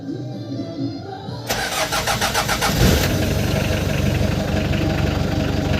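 Hyundai Grace van with a hard-starting problem cranks briefly, catches and settles into a loud, steady idle, heard up close with no talk over it.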